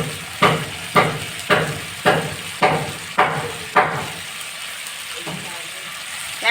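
Pabda fish with turmeric being stirred in hot oil: about seven evenly spaced scraping stirs, each followed by a fading sizzle, then a steady quieter frying hiss.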